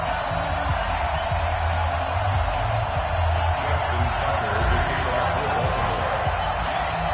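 Stadium crowd noise from an EA Sports NFL video game, Bengals at Ravens in Baltimore, a steady broad roar of cheering throughout with a low rumble, no pauses, fairly loud.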